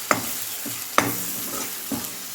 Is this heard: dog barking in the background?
no